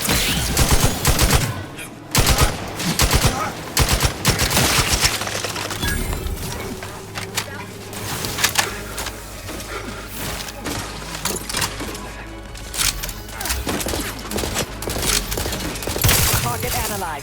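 Repeated bursts of weapon fire in The Outer Worlds 2 crack and rattle in uneven volleys over a low droning background, with scattered impacts and a few sharp breaking sounds in between.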